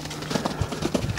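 Hooves of an Arabian stallion loping around a pen, a quick close run of rhythmic thuds on soft ground, each beat distinct and fairly loud over a brief burst of noise.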